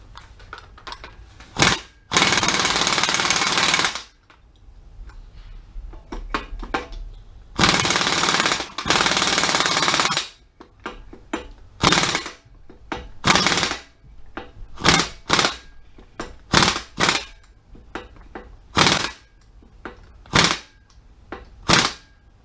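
The pinion nut on a Ford 8.8 differential is tightened during a rebuild: two long, loud buzzing power-tool bursts, followed by a run of short, sharp clicks and ratcheting clacks that repeat in an irregular rhythm.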